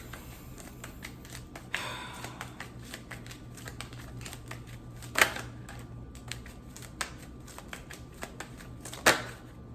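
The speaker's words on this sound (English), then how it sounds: "I'm gonna pull one more card just to confirm" Cards from a fortune-telling deck being shuffled and drawn, close and fairly quiet: scattered light flicks and taps, with a brief riffle near the start and two sharper snaps later, no talk.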